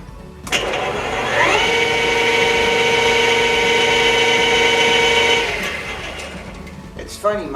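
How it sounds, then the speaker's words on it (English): A milling machine spinning up to about 760 RPM, a steady loud mechanical whir with a sustained tonal hum and some vibration. It holds for several seconds, then winds down, with a brief clatter at the end. "my machine develops a vibration at these higher RPMs"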